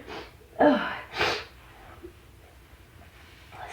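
A person fighting off allergies sneezes twice in quick succession, two sharp, breathy bursts close to the mic, followed by quiet room noise.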